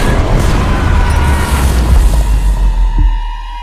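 Basilica, a giant bronze-era siege cannon, bursts apart in a deep, sustained rumbling roar that rolls on loudly for several seconds, with a sharper crack near the end before the boom begins to fade.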